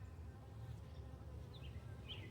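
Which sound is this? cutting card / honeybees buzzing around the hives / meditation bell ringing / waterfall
honeybees buzzing around the hives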